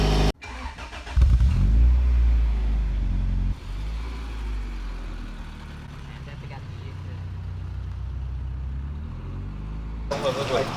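A car engine cranks and catches, roars loudly for a couple of seconds, then settles into a steady idle while people talk over it.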